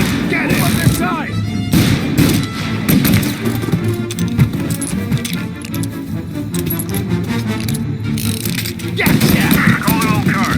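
Gunfire in the Mafia video game: a dense fusillade of rapid shots and booms clustered through a busy shootout, with voices shouting over the mix and loud, sharp reports near the start and end.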